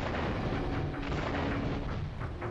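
Bomb blast in Grand Theft Auto III, a dense, loud, sustained roar of explosion rumble filling the whole moment without speech.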